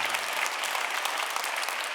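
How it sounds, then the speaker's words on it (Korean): Audience applause in a church hall after a choir's worship singing, a dense steady clapping that fills the short clip, close and fairly loud. "다시 한번 박수 한번 보내드릴까요?"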